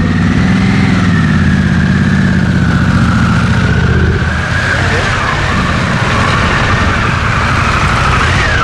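A Harley-Davidson Pan America Special motorcycle's engine runs loud and close with a steady low throb, rising in pitch as it pulls away, wind noise mixed in and a voice talking over it.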